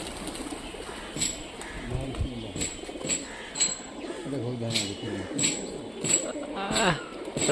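Pigeons in flight in Rajshahi coo in repeated throaty calls close by, with people talking intermittently over the birds.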